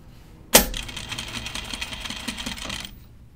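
A sewing machine edge-stitching a casual button-up shirt starts with a sharp clack, then runs in a steady, fast, close whirring stitch for about two seconds before stopping.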